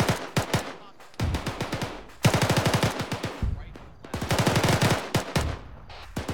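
Automatic weapons fire in a military video game comes in rapid, loud bursts of rattling shots, several volleys separated by brief pauses.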